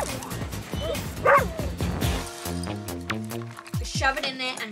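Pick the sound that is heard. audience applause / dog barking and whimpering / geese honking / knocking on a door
dog barking and whimpering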